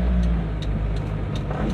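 A car engine pulls uphill with a steady mid-range drone and faint rhythmic ticking, heard from inside the vehicle at a constant, fairly loud level.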